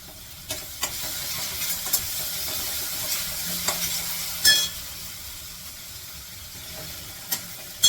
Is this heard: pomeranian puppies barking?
no